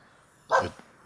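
A single sharp dog bark, fairly close, with a short fading tail and a faint yip after it against quiet background.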